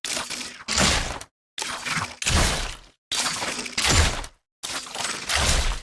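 Orianna's base auto attack sound effects from League of Legends: repeated crunchy, crackling magical impacts in pairs, short bursts separated by brief silences, close and without any talking.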